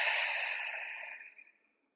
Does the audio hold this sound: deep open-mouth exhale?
yes